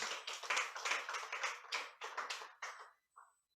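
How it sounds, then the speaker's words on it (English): An audience at a speaking event claps in a brief round of applause, a crisp patter of hands that thins out and stops after a few seconds. "Please, another round of applause for him."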